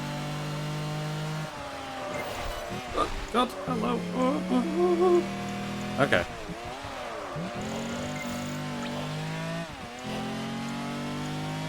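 A race car engine in Project Gotham Racing 4 on the Xbox 360 roars continuously, rising and falling with shifts and cornering, with a few tire squeals in the middle. Someone briefly speaks over it.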